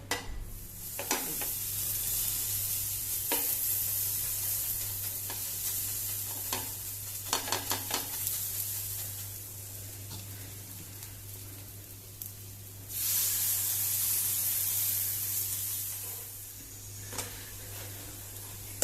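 Oil heating in a hot tawa for Goan-style crispy potato pancakes gives a steady close sizzle and hiss, broken by scattered sharp crackles and a louder burst of spitting near the end, with no voices.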